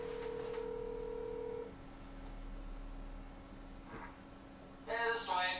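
A phone call is dialed on speakerphone, a steady tone followed by ringback and a burst of keypad-like beeps at the end, with people talking faintly around it.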